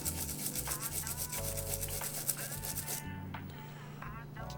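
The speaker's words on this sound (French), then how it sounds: "Avec ma fidèle brosse à dents, on va nettoyer ça." A toothbrush scrubs a Nintendo 64 circuit board wet with 99% alcohol, making a steady rapid bristly rasp up close, stroke after stroke, stopping briefly before resuming.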